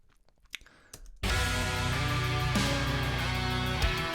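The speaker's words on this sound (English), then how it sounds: "industrial sounding big rises and smashes there down there." A dense industrial roar swells in abruptly after a few scattered knocks, sustaining loud metallic rumble with a sharp smash partway through.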